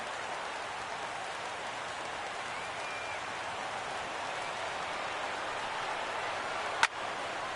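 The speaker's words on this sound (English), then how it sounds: "Crowd gets up for the 3-2." A stadium crowd in a baseball video game on PS4 produces a steady, dense roar of cheering and murmur throughout, with one brief sharp click near the end.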